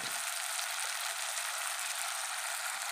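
Egg curry ingredients frying in a pan, a steady, even sizzling hiss that stays constant without breaks, soft and alone with no talking.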